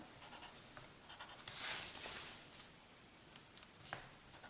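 A pencil quickly marks folding lines on paper for a paper rosette, making faint, close scratchy strokes with small taps in a quiet room.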